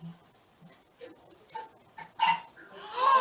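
Played-back recording of a dog named Cookie giving several short, spaced barks, fairly faint and a little tinny, growing busier toward the end.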